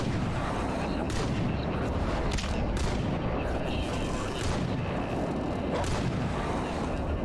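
Shotgun blasts ring out in the S.T.A.L.K.E.R. Anomaly video game, a run of loud, sharp booms at irregular intervals over a dense, continuous background of game noise.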